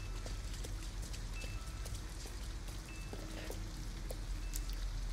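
Steady rain falls in the video game Detroit: Become Human, a continuous hiss of drops on surfaces with faint distant tones and small splashes, with no voices.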